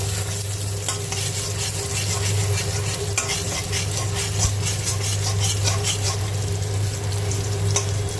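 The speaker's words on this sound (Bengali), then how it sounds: "পেঁয়াজটা একটু ভাজা হয়।" Onions fry in a pan for a home-cooked chicken curry with mushrooms, giving a steady, close sizzle with light stirring scrapes that runs unbroken throughout, with no voices.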